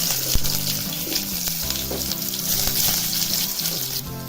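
Onion and cumin frying in a little oil in a pan, a loud, steady sizzle with occasional stirring clatter, heard close up and without talk.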